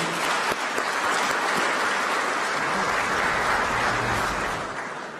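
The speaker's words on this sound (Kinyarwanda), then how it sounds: "Twongere dushimire abasenateri bamaze kurahira, tubahe amashyi." Sustained, dense applause from a large audience at a senators' swearing-in ceremony, loud and continuous throughout before starting to fade at the end.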